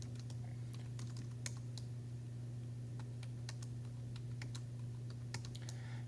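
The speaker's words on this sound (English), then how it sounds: "And I'm going to enter all these numbers." Numbers tapped on a calculator keypad: a run of quick, light key clicks in uneven bursts over a steady low electrical hum, with no talking.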